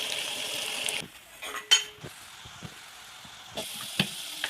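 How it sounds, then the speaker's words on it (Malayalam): Garlic sautéing in oil in a pan, heard as a steady bright sizzle broken by metal spoon clinks and scrapes against the pan, close and fairly quiet, with no voice. "വെളുത്തുള്ളി വഴണ്ടി വരട്ടെ കേട്ടോ."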